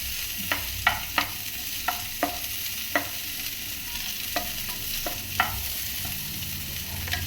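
Chayote peel sautés in a pan under a constant sizzle, punctuated by about ten sharp spatula taps and scrapes at an uneven rhythm, close and clear.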